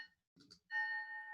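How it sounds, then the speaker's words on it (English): A bell chimes to mark the end of a podcast segment, a clear sustained ringing tone that follows a short soft rustle and lingers to the end. "There's our bell. We are out of time."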